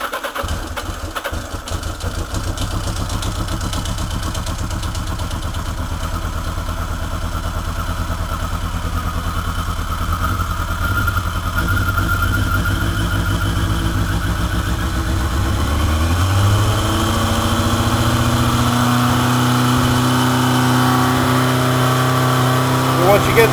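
Motorcycle engine running steadily after starting, idling with the choke set, a continuous close drone whose pitch shifts and settles lower partway through.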